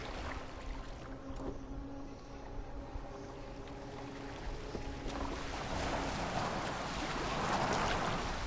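A boat gliding over water in Assassin's Creed Valhalla, a low steady wash of water and wind that swells louder toward the end, with no speech.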